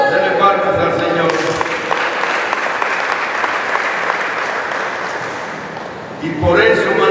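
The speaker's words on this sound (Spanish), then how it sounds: "Dele palmas al Señor." A congregation at a Spanish-language church service in Tingo María claps for the Lord, steady loud applause that holds for several seconds before tapering slightly and swelling again at the end.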